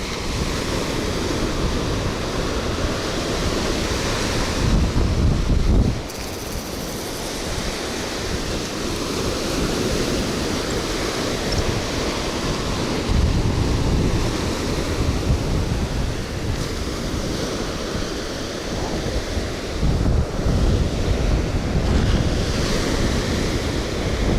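Heavy wind roars over crashing surf on a beach, a steady loud rush with swelling gusts and no voices.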